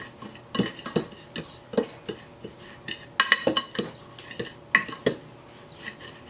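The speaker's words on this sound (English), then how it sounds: "with my fork, I'm just going to go ahead and just mix all this together" A fork clinks and scrapes against a bowl while mixing seasonings, a teaspoon of each, for breading mozzarella sticks, giving a quick, irregular run of sharp metallic taps and scrapes close up, with no one speaking.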